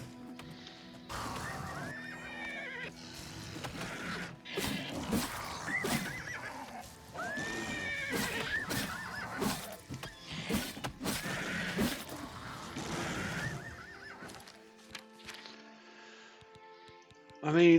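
Shadowmere, a horse in the video game Oblivion, neighs and whinnies repeatedly amid hoof clip-clops and scuffling, with a voice talking over parts of it.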